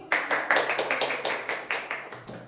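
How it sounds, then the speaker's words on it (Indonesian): A class of students claps in a rhythmic, unified pattern, roughly a dozen crisp beats evenly spaced, near and clear, with no voices over the claps. "Maka tepuk tangan lagi."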